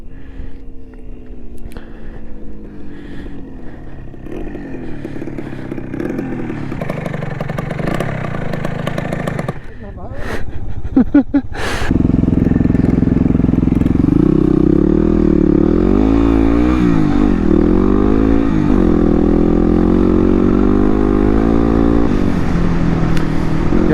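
A 2016 Yamaha WR250R motorcycle rides through loose sand, its engine droning and revving up and down, loud and close, with a steady heavy roar for the second half.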